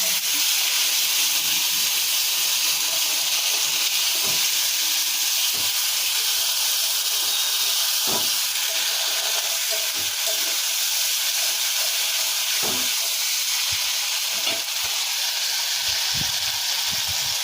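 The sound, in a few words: frying spice paste with ginger and tomato in a pan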